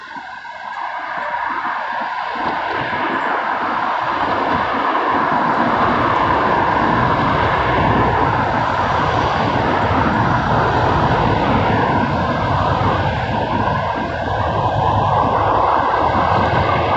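A Class 66 diesel freight locomotive passes at a trackside spot, a loud, steady engine roar with rumbling wagons that holds for over fifteen seconds, close by and with no talk.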